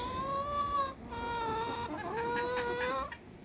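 Chickens cluck and make drawn-out, warbling calls nearby, several overlapping voices continuing without pause.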